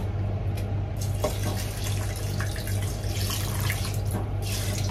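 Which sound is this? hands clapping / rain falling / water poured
water poured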